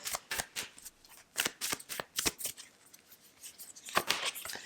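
Tarot cards drawn and handled from a deck, giving crisp close-up snaps and papery slides in quick irregular bursts, with a louder flick near the end and no talking.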